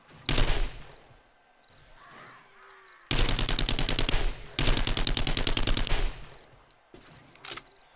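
Rapid SMG bursts fired in the zombie survival game 7 Days to Die, loud and close: a short opening burst, then two long sustained bursts with a brief gap between, and a final short burst, with no talking.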